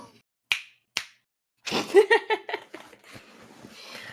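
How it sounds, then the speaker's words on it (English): Two crisp, isolated finger snaps about half a second apart, followed by a burst of laughter and talk. "you must snap your fingers during your promo"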